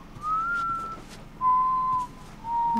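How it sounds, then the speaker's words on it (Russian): A character in the video game The Last of Us whistles three clear, sustained single notes, the first gliding slightly upward, each separated by short pauses over faint background hiss. "Я могу свистеть!"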